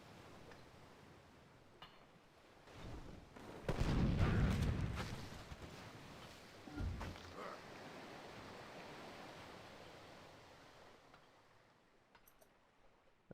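Cannon artillery fire in a strategy video game: a broad, rumbling boom swells near the middle, followed by a smaller thud, over a low, steady noise bed.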